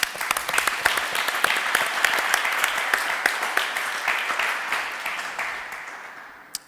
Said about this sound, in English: I'd like to give an applause to them.